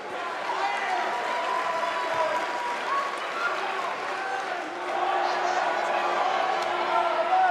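A live arena crowd in the WWE 2K19 wrestling video game applauds and cheers after a one-on-one match, a steady, dense roar of clapping and voices that swells slightly near the end.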